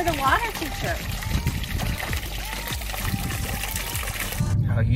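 A water feature at a luxury home trickles and splashes steadily, partly masked by people talking nearby.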